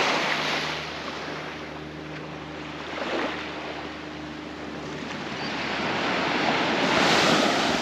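Sea waves wash onto a beach in a continuous rushing surf with wind noise on the microphone, swelling louder toward the end, with no talk.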